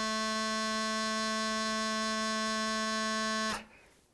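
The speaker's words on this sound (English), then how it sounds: "Low G on a practice chanter is sounds like this." Low G sounded on a bagpipe practice chanter, one steady, reedy, buzzing tone held for about three and a half seconds before cutting off abruptly into a faint room tail.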